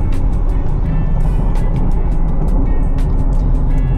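Ford Everest Next Gen SUV pulling hard in low gear on a winding road, a loud steady engine drone and road rumble filling the cabin throughout, with faint clicks over it and no talk.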